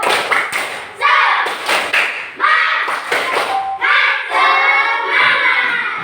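Classroom pupils doing an Indonesian rhythmic clap-and-chant routine, sharp unison claps punctuating loud group vocal phrases in a repeating pattern, close and energetic.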